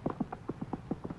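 Horse hooves clip-clop as a sound effect in an early puppet show, a quick, even run of about ten hollow knocks, close and fairly quiet.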